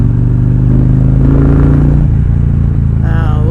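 Honda Rebel 1100 DCT motorcycle exhaust heard from the rider's seat, a loud, deep, steady engine drone with a slight shift in pitch partway through and wind rumble on the helmet microphone.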